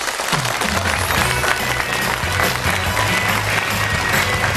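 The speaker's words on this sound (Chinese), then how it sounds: "让我们掌声有请苑子文" A television studio audience applauds at a Chinese talk show, a loud, continuous wash of clapping with music playing underneath.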